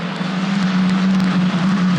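Italian F4 race cars at Imola racing into the Rivazza corner after hitting the rumble strip, a loud steady high-revving engine drone held close throughout with no pauses.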